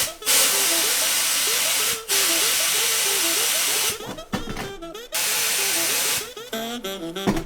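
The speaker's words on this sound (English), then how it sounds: "Wow, there's a lot of sand coming out, but I think it's working." A compressor-fed sand gun in a homemade sandblasting box blasts sand in loud, broad hissing bursts of a few seconds each, separated by short pauses, with faint talk between bursts.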